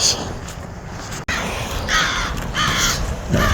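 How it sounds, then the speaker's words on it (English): Several crows call from a distance over open country near railroad tracks, harsh caws arriving in short bursts over steady background noise. "Could be crows, could be"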